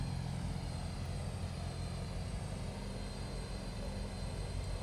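Propeller engines of a Twin Otter DHC-6-300 aircraft power up, a steady loud droning roar with constant low hum and high whine holding throughout, close and with no talk.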